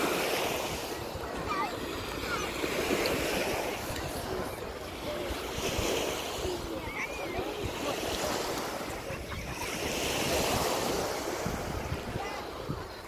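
Steady wash of surf from the Sea of Azov rolling in and out, with wind buffeting the microphone and a couple of faint distant bird cries.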